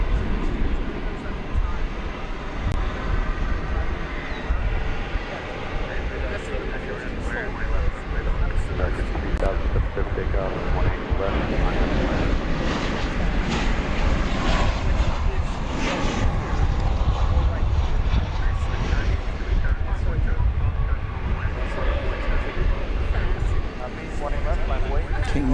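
American Airlines jets at DFW Airport near runway 18 right give a steady, loud roar of engines mixed with gusty wind noise over the microphone.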